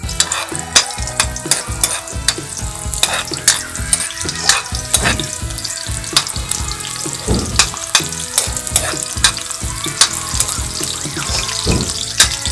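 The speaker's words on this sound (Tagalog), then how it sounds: "Igisa na po natin yung sibuyas." Chopped onion sautéing in hot oil in a pan, a loud sizzle broken by frequent sharp scrapes and clacks of a utensil stirring in an uneven rhythm.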